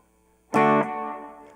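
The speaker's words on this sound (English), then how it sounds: "that reverb is a digital model of one of the reverbs from Abbey Road" Electric guitar played through a pedal with a built-in digital reverb modeled on an Abbey Road reverb: one struck chord rings out bright and full, then decays into a lingering wash of reverb tail.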